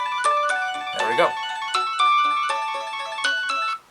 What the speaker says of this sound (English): Now I'm going to hit the ring button. And there we go. It's ringing.